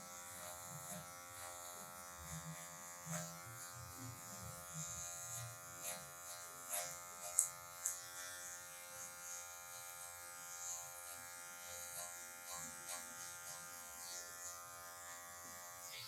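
An electric hair clipper fitted with a number 1 guard buzzes steadily through long hair during a taper fade, a continuous close hum with brief louder bites as it passes through the hair.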